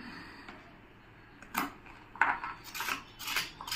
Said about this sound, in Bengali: হালকা হালকা করে ছুলে নিচ্ছি